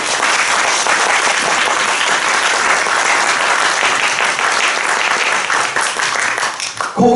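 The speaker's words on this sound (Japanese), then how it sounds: "大きな拍手をお迎えください。" A hall audience at a speech contest applauds loudly and continuously, a thick wash of many hands that holds steady for several seconds before tapering slightly near the end.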